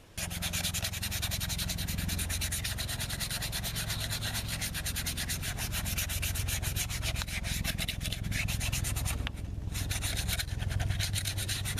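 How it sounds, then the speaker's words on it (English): Steady sandpaper rubbing on a Condor knife's sheath continues close and clear for the whole stretch as the sheath is distressed, with no talking. "sand this. I want to distress it some"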